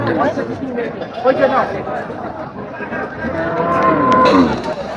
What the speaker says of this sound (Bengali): এই যে গরুটা সুন্দর আছে ওই যে নিয়ে গেল